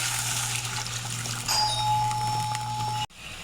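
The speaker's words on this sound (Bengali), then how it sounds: "মশলাটা কত সুন্দর কষানো হয়ে গেছে এখন গরম জল দিয়ে দেবো" Hot water is poured into cooked-down masala for a rohu fish kalia curry. A steady, close rushing and hissing pour lasts about three seconds, then stops abruptly.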